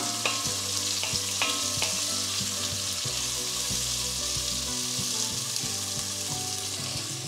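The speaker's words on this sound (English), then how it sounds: "we can add the onions, sliced onions, and the green chilies sliced" Sliced onions and green chilies fry in hot oil with roasted spices for a dry khichdi, a steady loud sizzle broken by repeated scraping stirs and clinks of a spoon against the pan.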